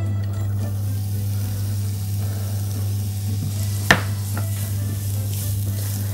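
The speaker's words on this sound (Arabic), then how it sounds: "بنشوح البصله والتومه مع بعض، وبعدين ننزل ببقيه الخضار" Onion, garlic and vegetables sauté in a pan for eggplant pasta, giving a steady close sizzle over a low hum, with one sharp clatter partway through.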